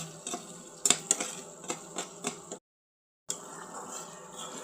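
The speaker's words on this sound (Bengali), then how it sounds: "এখন মশলাগুলোকে ভালো করে নেড়ে চেড়ে একটু ভেজে নেব।" Whole spices (cardamom, cinnamon, nutmeg, mace, bay leaf) stirred and fried in a pan, with a spoon clinking and scraping in sharp taps over a soft sizzle, broken by a brief silent gap.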